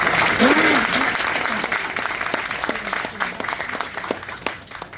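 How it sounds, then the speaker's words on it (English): Audience applause at a home dedication ceremony for a veteran, loud and sustained at first, then thinning into scattered claps with voices and cheers mixed in. "So a big round of applause for our HVAC."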